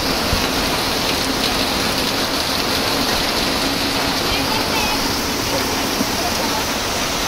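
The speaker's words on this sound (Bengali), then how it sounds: "কি অবস্থা বৃষ্টিতে" Steady, dense rain pours down nearby, a constant even hiss of drops on surfaces with no break across the whole stretch.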